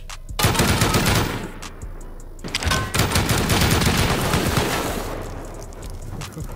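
A turret in the video game Rust firing sustained rapid bursts of automatic gunfire, loud and close with brief pauses, while players talk over it.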